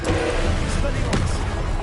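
Expelliarmus disarming spell cast in a Harry Potter video game: a sharp thumping impact bursts out midway through a busy, murmuring game soundscape with low thuds around it.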